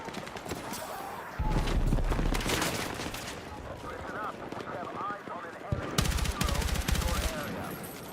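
M4 rifle fire in the video game Battlefield 6, with rapid automatic bursts cracking over continuous game noise while someone talks over the action.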